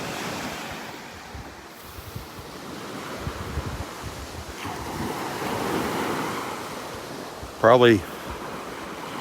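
Ocean waves and surf wash continuously along Vanderbilt Beach in early-morning darkness, with wind buffeting the microphone and a soft swell in loudness; a brief spoken word cuts in near the end.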